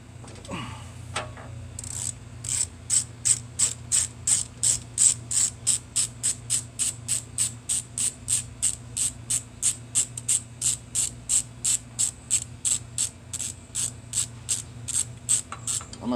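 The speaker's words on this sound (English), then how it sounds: "I didn't have the socket to pull the spark plug out" A socket ratchet works a spark plug loose on a John Deere L100 riding mower, a steady run of rapid, close metallic clicks repeating about twice a second for many strokes, fairly loud and alone without talk.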